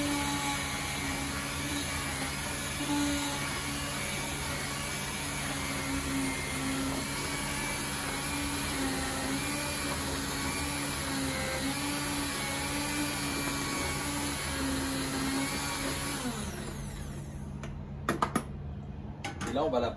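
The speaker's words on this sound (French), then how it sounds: "On va la mixer." A blender purées a reduced mustard sauce with shallots for veal kidneys, giving a steady, loud, whirring drone that runs without pause for about seventeen seconds before cutting off into a few knocks.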